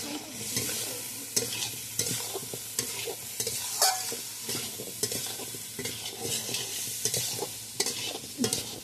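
Soybean chunks and potato stir-fried in cooked-down masala, with steady close sizzling and repeated scraping strokes of a spatula against the pan throughout.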